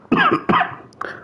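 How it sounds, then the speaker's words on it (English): A person coughs three times in quick succession, two strong harsh bursts followed by a softer, shorter one, close to the microphone with no other sounds. "you might hear some coughing"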